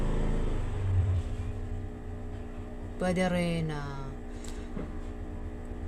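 A motor engine drones steadily in the background beneath a speaking voice, with a brief louder rev in the middle before it settles back to a low hum.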